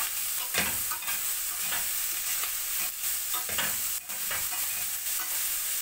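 Pechay with ground meat being stirred and fried in a pan with no oil, with steady close sizzling broken by repeated scraping strokes of the spatula.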